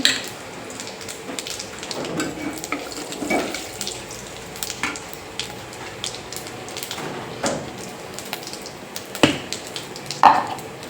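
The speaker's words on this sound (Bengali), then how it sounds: "চিংড়ি মাছ ভাজা হয়ে আছে তেলের মধ্যে এবার জিরে দিয়ে দিলাম" Cumin seeds drop into hot oil left from frying shrimp, crackling and sizzling steadily with irregular sharp pops throughout, close and fairly loud, with no talking.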